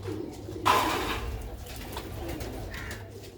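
Young Sialkoti pigeons cooing close by, soft throaty calls repeating through a steady ambient background, with one louder rustling burst early on and no talking.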